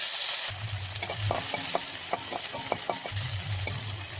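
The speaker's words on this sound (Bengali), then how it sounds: "এবার এখানে আমি কুচনো পেঁয়াজ, রসুন আর কাঁচা লঙ্কা আমি এর মধ্যে দিয়ে দেবো।" Chopped onion, garlic and green chilli hit hot oil in a wok already seasoned with dried chilli, bay leaf and cumin. They sizzle loudly and steadily while a spatula stirs them with repeated scraping strokes, and no one speaks.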